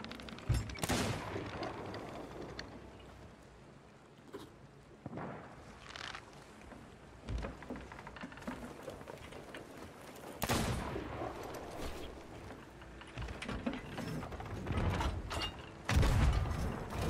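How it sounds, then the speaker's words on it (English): Repeated heavy booms and bursts of video-game ship cannon fire go off irregularly over a mechanical background, some close and loud, others fainter. "I got a little crazy in the cannons there"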